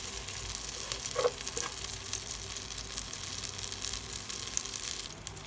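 Caramel powder is mixed in a pan on a low flame while making popcorn, producing a continuous soft sizzling hiss with faint stirring movements, close and even.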